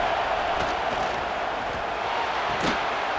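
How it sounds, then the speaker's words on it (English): A stadium crowd roars at an Ohio State vs. Minnesota college football game in College Football 26 on PS5: a dense, steady wall of cheering and noise with no break, and a brief sharp thump near the end. "Listen to this crowd just shaking the girders of this place, trying to help their defense."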